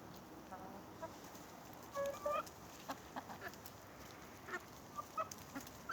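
Chickens cluck softly in short, scattered bursts close by while eating grapes, with faint farmyard background and little talking.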